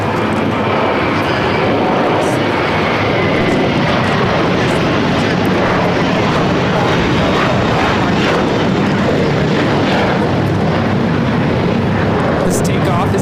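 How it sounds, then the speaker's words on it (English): At LAX, an American Airlines A321 jet bound for JFK roars steadily on takeoff with a continuous, loud broadband engine rumble that holds strong throughout, and no clear talk rises above it. "This takeoff is American Airlines 274, taking off to JFK on the A321"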